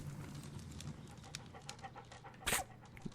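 Toby the dog panting in a Sherlock Holmes video game, a quiet steady breathy rhythm over low background ambience, with one brief louder burst near the end.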